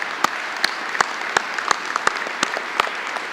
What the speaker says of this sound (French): Je pense qu'on mérite une bonne main d'applaudissements pour le travail politique qu'on a fait.